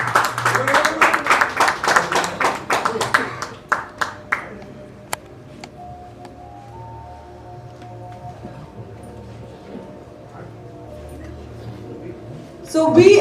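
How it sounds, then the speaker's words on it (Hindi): An audience at a film event claps loudly and rhythmically for the film team, strong clustered clapping that thins out within a few seconds and gives way to a quiet room hum, with a brief burst of noise at the end. "तो इनके लिए जोरदार तालियां."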